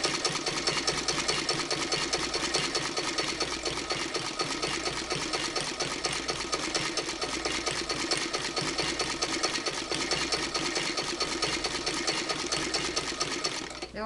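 A vintage hand-crank Singer sewing machine stitches quilt binding in a steady, loud, continuous mechanical whir and clatter with a regular rhythmic beat throughout.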